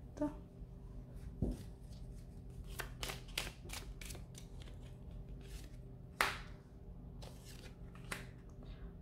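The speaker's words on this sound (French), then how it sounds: "je vais juste recentrer mes cartes" Tarot cards are squared up and tapped on a table: soft shuffling and several crisp taps of the deck against the surface, close and fairly quiet, with no talk.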